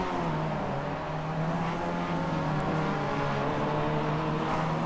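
Mazda MX-5 race cars in iRacing at Summit Point Raceway, a continuous close engine drone with a steady tone that shifts slightly in pitch as the cars run down the straight, loud and unbroken throughout.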